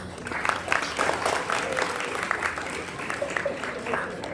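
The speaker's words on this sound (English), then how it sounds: "So round of applause for these ladies." An audience at a junior high honors program claps for the volleyball players, the applause swelling early and holding as a moderate, steady patter before thinning slightly toward the end, with a faint voice under it.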